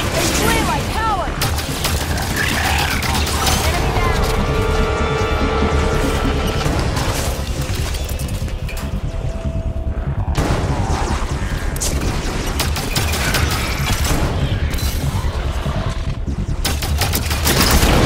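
Rapid gunfire from a Halo 5 battle, dense volleys and bursts running nearly continuously and loud throughout, with shouted voices mixed into the combat noise.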